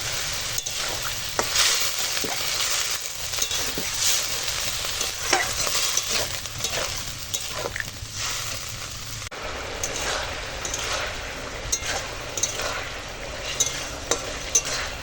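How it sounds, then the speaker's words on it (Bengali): Vegetables with radish, bitter gourd and poppy seeds being stirred with spices in a pan, a steady scraping and sizzling that runs for about fifteen seconds with louder spoon strokes now and then, close and without talk. "সব দিয়ে বেশ খানিক্ষণ নাড়লাম"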